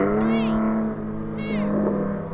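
BMW M Coupe cars accelerate hard from a rolling start in a drag race, engine noise rising in two surges while people talk and shout excitedly over it nearby.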